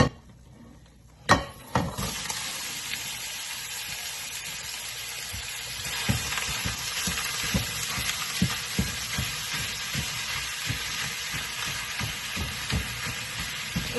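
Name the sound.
food frying in a hot pan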